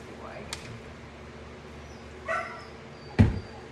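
Other dogs bark in the distance during an indoor dog bath, a few faint, scattered yips and barks over quiet room tone.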